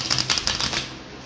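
Tarot cards being shuffled by hand, a quick run of crisp riffling clicks and flutters lasting about a second before trailing off, close and fairly loud.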